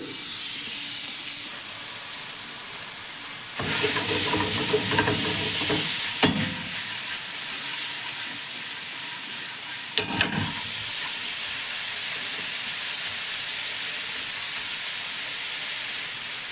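Cleaned squid hits hot masala in a pan, a quiet hiss jumping to a loud, dense sizzle that continues steadily, with a sudden burst of crackle partway through.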